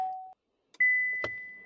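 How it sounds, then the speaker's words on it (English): Two electronic beeps from a Buick Envista entering accessory mode: a short lower tone, then after a pause a longer, higher steady beep with a faint click beneath it, close and clear. "the green light start beeping at you"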